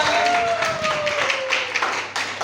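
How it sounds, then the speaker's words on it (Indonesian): A classroom audience during a geography teaching assessment claps together, moderately loud with scattered individual claps, while a faint tone and some voices sit underneath. "minta tepuk tangan kita semua"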